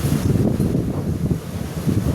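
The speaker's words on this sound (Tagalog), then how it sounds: "Malakas ang hangin." Strong wind buffets the microphone in low, rumbling gusts that swell and ease across the short stretch, no voices heard.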